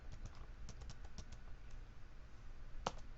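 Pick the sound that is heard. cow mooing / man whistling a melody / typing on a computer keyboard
typing on a computer keyboard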